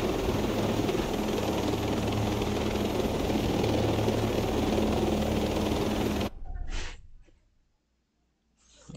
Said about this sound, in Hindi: जितना नज़दीक जा सकता हूँ जाके हेलीकॉप्टर से कूदना पड़ेगा बस।